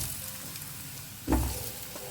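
Hog plums (ambade) hit a pan of onions that have fried for a minute, giving a steady close sizzle that swells into a louder burst of hissing as the fruit drops in.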